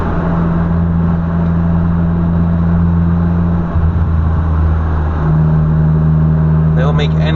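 A manual car with a broken first gear launching in second, its engine straining and droning loudly and steadily close by, with a brief dip partway through and a voice talking over it.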